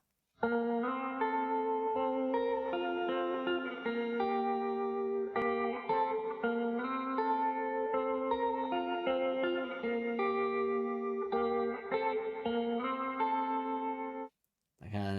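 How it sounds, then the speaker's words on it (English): Clean electric guitar plays a steady chordal pattern with gentle reverb and a slight shimmer, ringing clearly and evenly before stopping abruptly near the end. "I do love the sound of the opening guitar, the reverb."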